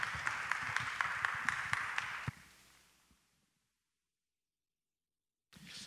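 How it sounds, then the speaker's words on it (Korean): A church congregation claps for a departing pastor at a Sunday service, a quick, fairly even patter of hands lasting about two seconds before trailing off into near silence. A brief burst of sound follows at the very end. "박수 한번 하겠습니다."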